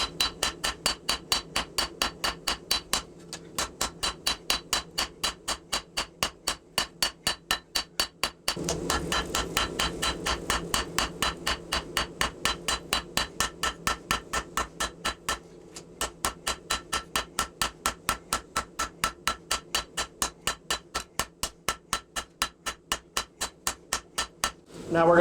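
A straight peen hammer strikes hot 5160 steel coil on an anvil while a knife is hand forged, with dozens of close, loud, evenly spaced blows and brief pauses between runs.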